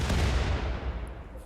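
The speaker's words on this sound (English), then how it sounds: "Mortars, do your job." Mortar fire in the video game Rimworld, launched at an attacking ghoul: a loud, deep booming rumble that starts strong and slowly fades over a second and a half, with no talking.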